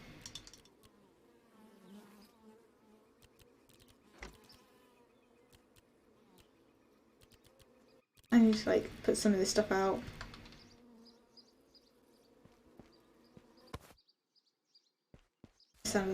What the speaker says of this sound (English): The sound of the bees gets annoying after a while.